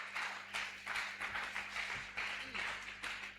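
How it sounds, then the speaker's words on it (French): A congregation at a Monday evening prayer service claps in rhythm to welcome a preacher, with faint, even bursts about twice a second under a background voice. "Par vos acclamations, recevons-le."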